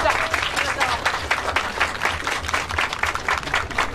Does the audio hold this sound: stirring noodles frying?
no